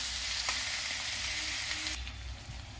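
Chopped onions fry in a hot pan for a chicken curry, giving a steady, fairly quiet sizzle that hisses evenly and then drops abruptly to a softer crackle near the end.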